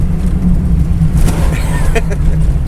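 A car passes close by on a rural road, its engine and tyre roar swelling loudly over a constant low rumble, with voices talking briefly in the background.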